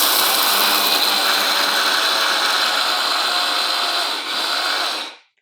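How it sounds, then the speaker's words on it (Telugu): A mixer grinder whirs loudly and steadily while grinding jowar (sorghum) grains, a dense continuous motor and rattling-grain roar with a slight dip near the end before it switches off and cuts to silence. "గ్రైండ్ చేద్దాం."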